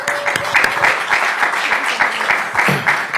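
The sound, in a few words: audience applause for the panelists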